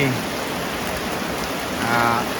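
Steady rain hissing on a surface, with a voice talking faintly underneath.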